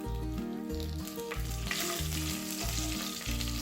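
Cinnamon, cloves, cardamom and bay leaf fry in a pan for chicken vegetable pulao, giving a steady close sizzle under a loud repeating background music track.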